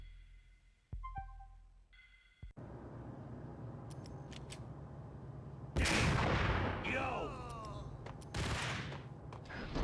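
A grenade detonates in the Max Payne video game, a sudden loud blast with rumbling debris and ringing decay, preceded by quieter game sounds and clicks and followed by further bursts of gunfire-like noise.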